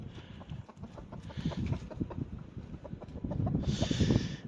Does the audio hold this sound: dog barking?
no